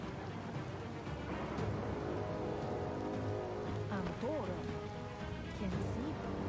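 Steady rain hiss in the Biomutant video game, a dense, even wash running the whole time while someone talks over it and brief tonal game effects chirp in.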